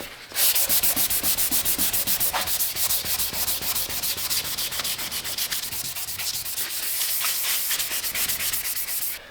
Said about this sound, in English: Okay, that was the 600 grit sandpaper step.